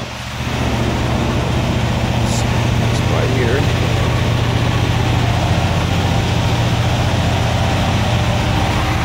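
A 1971 Cadillac Coupe Deville engine idles with a constant low rumble and an even hum that runs steadily from start to finish, loud and close, with a brief faint chirp or voice-like sound partway through.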